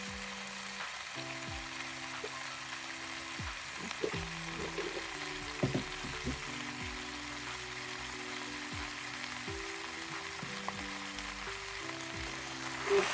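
Pork meat fries in a wok with a steady loud sizzle and crackle, occasional stirring clanks and scrapes of a utensil against the pan, close up and without talk.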